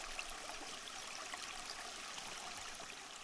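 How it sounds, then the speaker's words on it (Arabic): Cold or hot spring water runs from limestone or volcanic rock in Morocco's uplands, a soft, steady trickling flow, faint and distant, without voices. "من بين جنبات هذه المرتفعات الصخرية من أصل كلسي أو بركاني تنبع عيون ماء بارد أو ساخن أحياناً"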